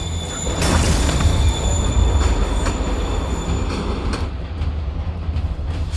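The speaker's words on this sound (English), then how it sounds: "Train's moving." A moving train in the Spider-Man PC game rumbles loudly and steadily, with wheel squeals and clacking carriages rolling past for several seconds and no voices.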